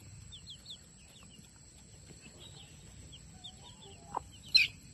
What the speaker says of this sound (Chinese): 这群小鸡好慌啊